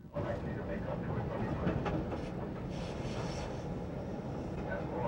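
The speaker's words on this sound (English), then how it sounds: "Northbound Howard T train." A northbound Howard CTA train rolls past on the Red Line, a steady rumbling roar with some rail clatter, fairly close and continuous.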